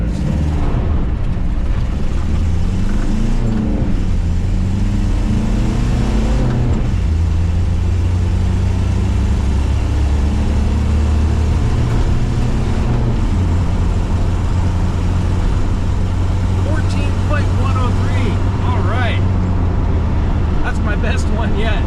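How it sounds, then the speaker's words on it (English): A diesel-powered Suzuki Samurai accelerates hard from a standstill to sixty, its engine droning loud and close with steady rising tones interrupted by brief gear-change dips, and road noise underneath. "Pretty funny doing 0 to 60 pulls in a diesel powered Samurai"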